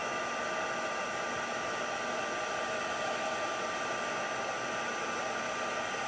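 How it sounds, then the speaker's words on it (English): A heat embossing tool blows hot air over a stamped card, a constant, even whoosh like a small hair dryer, running steadily close up with no speech. "Just work your way around the image, making sure that you heat emboss every single piece."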